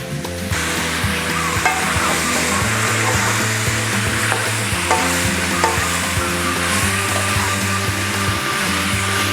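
Beef pieces browning in a hot pan for a milder pepper steak, giving a steady, loud sizzle and fry with occasional stirring scrapes throughout, no talking.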